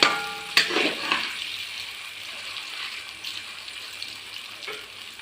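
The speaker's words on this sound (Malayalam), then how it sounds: "ഇനിയുള്ളതും കൂടി ഞാൻ ഇതുപോലെ വറുത്ത് പോരാം" Raw plantain pieces dropped into hot oil for deep frying in a Malabar kitchen, a sharp burst of bubbling hiss at the start that settles into a steady, fainter crackling sizzle.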